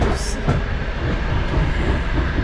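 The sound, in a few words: train running on rails in Kazakhstan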